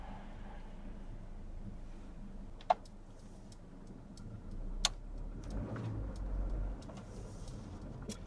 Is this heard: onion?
no